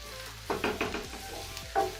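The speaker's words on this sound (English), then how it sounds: "I'm just going to proceed to cook this for about 10 to 15 minutes till my onions become golden brown" Onions frying in a pot for pilau, a soft sizzle under a few distinct stirring scrapes and knocks of a spoon against the pot, close and fairly quiet.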